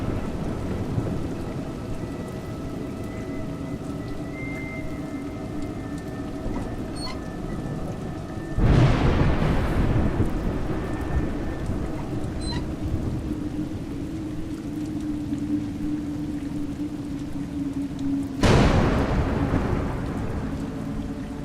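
Rain and thunder in A Juggler's Tale, a steady patter of rainfall with two loud rolling thunderclaps breaking in, each swelling sharply and then fading back into the rain.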